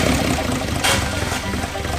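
A Nissan 300ZX twin turbo engine idles roughly with an uneven, sputtering drone, close and steady throughout, with no talking.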